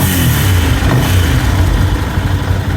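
Ducati 750 SS Supersport L-twin motorcycle engine running loud and close at a steady idle, with a rough, throbbing low rumble and no talking.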